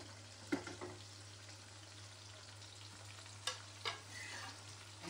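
Beef pieces with ginger, garlic and cumin paste frying in a pot for biryani, a soft continuous sizzle under a low steady hum, broken by a few clear stirring knocks.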